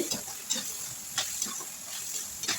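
Ingredients for a Tamil dried fish curry sautéing in a pan, a steady soft sizzle with a few louder scraping stirs spread through, close and moderately quiet, no talking.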